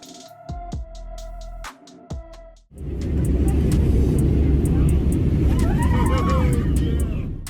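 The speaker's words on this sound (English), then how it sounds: "the plane accepted the wind challenge and smoothly took off without hesitation" A fixed-wing airplane takes off in strong wind, a loud, steady roar of engines and rushing air rising suddenly after a brief stretch of unrelated sound and holding to the end.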